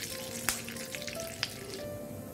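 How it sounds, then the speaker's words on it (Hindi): Cumin seeds and curry leaves sizzling in hot oil as they are stirred, a soft steady crackle with two sharp clicks of a spoon, fairly quiet and with no one talking. "इसी में हम एक चम्मच जीरा डालेंगे और इसी के साथ हम डालेंगे कड़ी पत्ते और ये डाल के हम इस तरह से मिक्स कर लेते हैं।"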